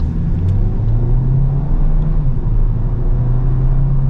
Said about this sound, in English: Let's see what the car is like getting up to speed.